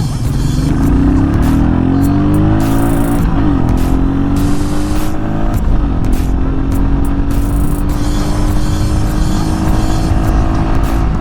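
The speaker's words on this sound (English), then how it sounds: "I'm going to do my best to get this bike from 0 to 60 as quickly as I can" A Royal Enfield Meteor 350 motorcycle accelerates hard from a standstill up to highway speed, its loud engine note climbing through the gears with short dips at each shift, alongside heavy wind rush close to the mic.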